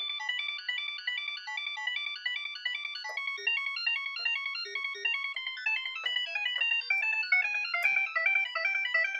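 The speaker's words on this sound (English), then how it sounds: "it struggles to play the really high notes" Yamaha PSS-14 keyboard playing rapid runs of very high, thin, chirpy notes in a steady stream, sounding strained and electronic.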